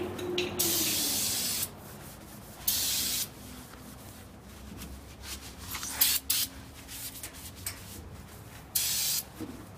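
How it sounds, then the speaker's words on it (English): Carburetor cleaner sprays from an aerosol can in several hissing bursts of varying length, close and fairly loud, with quieter rubbing and handling between them. "Now, carburetor cleaner."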